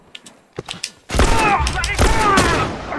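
Rapid gunfire erupts in a video game, a loud burst of overlapping shots that starts after a few scattered sounds and continues in dense volleys to the end.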